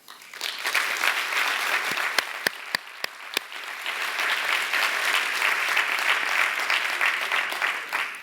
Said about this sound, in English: just give a little round of applause to those who have served